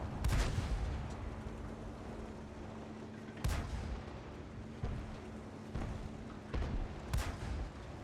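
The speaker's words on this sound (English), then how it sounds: "So listen to the Comet firing in third person." A Comet tank's main gun in World of Tanks fires in third-person view on the Himmelsdorf map, with several sharp booming shots a second or two apart, each trailing off into a rumbling echo over steady battle ambience.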